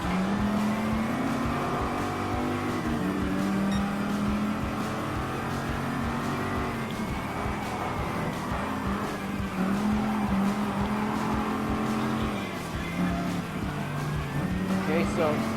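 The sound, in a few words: race cars driving in Gran Turismo Sport video game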